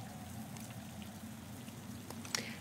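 Explosive gel sprayed in Batman: Arkham City makes a soft, sputtering wet hiss with a few crackly bursts over a low, rumbling game background.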